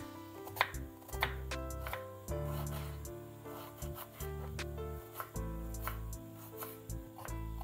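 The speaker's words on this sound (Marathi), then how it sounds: "सगळ्यात पहिले आपण कांदा कट करून घेऊया" Onion being finely chopped for a Maharashtrian moong dal tadka, a steady run of crisp knife taps on a board, close and fairly quiet, with no talking.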